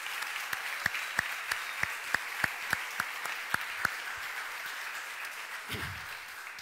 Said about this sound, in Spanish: vamos a dar un aplauso al Señor y gracias por ellos